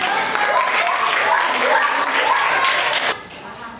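Loud, steady applause from a crowd, a dense wash of clapping that drops off abruptly near the end.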